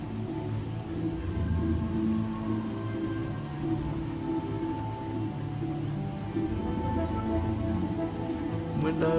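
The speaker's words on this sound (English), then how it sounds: "Rain is a bad thing." Rain patters steadily in the Project Zomboid survival game, a constant soft hiss of drops on surfaces beneath a low droning background, even and unbroken throughout.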